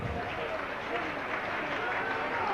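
A rugby league crowd at a York versus Salford match cheering and applauding for York, a steady broad roar under a commentator's voice.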